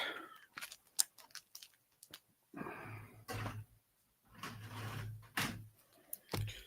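Scissors cut open a mail package close by, a series of sharp snips and crinkly rustling bursts separated by brief pauses.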